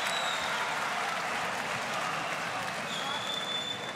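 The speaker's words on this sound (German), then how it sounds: "Das Publikum tobt und ist begeistert." Boxing arena crowd cheering and applauding during a heavyweight fight, a dense, steady wash of clapping and roaring voices from a large audience, sustained and fairly loud throughout.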